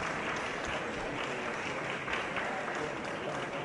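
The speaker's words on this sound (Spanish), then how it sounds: "La bancada oficialista los respaldó con aplausos." Governing-party legislators applaud in Peru's Congress as the prime minister arrives with his cabinet, a broad steady wash of clapping at moderate level that cuts off abruptly at the end.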